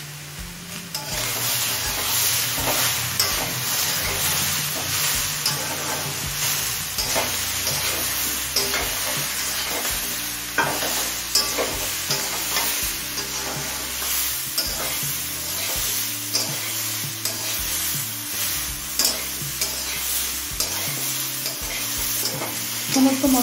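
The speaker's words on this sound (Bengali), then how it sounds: "সমস্ত মশলা দিয়ে মিনিট পাঁচে কষিয়ে নিয়েছি" Turmeric, chili powder, cumin powder and salt are sautéed in a pan for a Bengali mixed vegetable curry: a close, steady sizzle under repeated rhythmic scraping and stirring of a spatula, with no talking.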